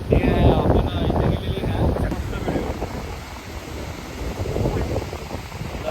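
Steady wind buffets the microphone on Kuigaon beach, a broad rushing roar that swells and eases over several seconds, with faint surf-like wash beneath it.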